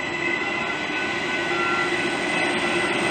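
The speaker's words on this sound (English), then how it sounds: "Oh, look, there's one of the... That's our newest trains." A modern passenger train passing at steady close range, a continuous rumbling roar with wheel and rail noise throughout, no voices.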